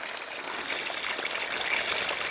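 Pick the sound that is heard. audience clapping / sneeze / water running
water running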